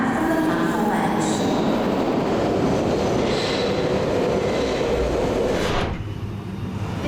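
A London Underground Piccadilly line train rumbles loudly along the track with grinding wheel noise and faint squeals, steady throughout before easing off near the end.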